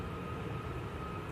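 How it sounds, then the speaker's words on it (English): A Ryanair Boeing 737 MAX 8 departs Manchester Airport in windy weather, its engines a steady loud roar with a tonal whine running through it and no talk. "Ryanair 737 MAX 8 off to Palma."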